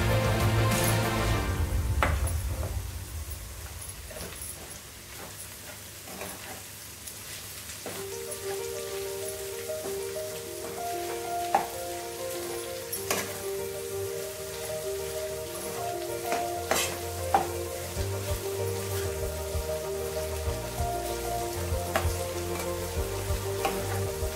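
Okra bhendi bhaji sizzles steadily in a pan while being stirred, a continuous close frying hiss with scattered scraping taps of the spoon throughout.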